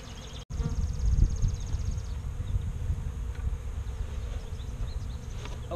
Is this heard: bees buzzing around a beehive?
yes